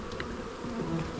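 Bees buzz faintly around an open hive during an inspection, making a steady low drone with a few brief louder passes close by.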